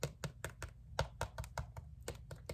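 Fingers tap a hard pencil pouch sealed stiff with Mod Podge, giving a close, quick, irregular run of sharp clicks with brief pauses between them.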